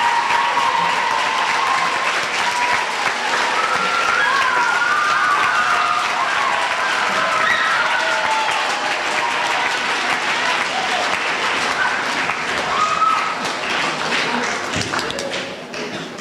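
A school audience at a middle school Veterans Day ceremony gives a long, steady round of applause. Dense clapping fills the room for about sixteen seconds and fades slightly at the end.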